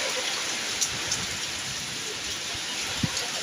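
Heavy rain pours down in a dense, continuous hiss, with a few louder drops striking nearby throughout.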